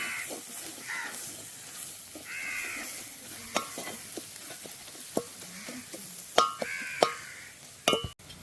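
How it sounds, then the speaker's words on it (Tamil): Prawns and other ingredients sauté in a pan for a Sri Lankan village-style prawn curry, giving a steady soft sizzle with scattered clicks and scrapes of stirring. Sharper clinks come near the end. "நல்லா வதக்குங்க ரெசிபி இது பார்த்தீங்கன்னா தெரியும் நல்லா வதங்கட்டும்"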